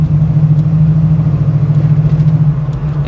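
A 1974 AMC Javelin AMX with a 401 engine drones with a loud, steady low engine rumble close by, with no clear rise in pitch and no talking.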